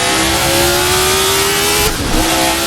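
A 1970 race car's Cosworth DFV engine in Assetto Corsa screams loudly and continuously at high revs, the pitch climbing steadily, then a brief dip and shift near the end before it carries on.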